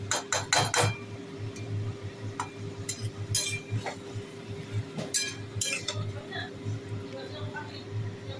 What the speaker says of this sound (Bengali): এবার কষাতে থাকছি